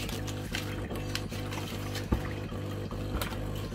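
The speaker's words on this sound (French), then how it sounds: "C'est la cafetière qui fait du bruit." A home coffee maker runs close by with a steady droning hum and a pulsing, gurgling rhythm, broken by one sharp knock partway through, with no one speaking.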